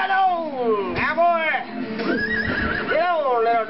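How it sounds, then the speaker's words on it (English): Horse neighing in the Disney Infinity Lone Ranger video game, several whinnies with falling, wavering pitch rising and dropping across the stretch, loud and close, mixed with game sound and voices talking over it. "Oh, you found your horse, did ya?"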